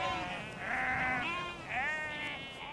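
Sheep bleating on Dartmoor, several drawn-out, wavering calls close by, rising and falling one after another with no talk.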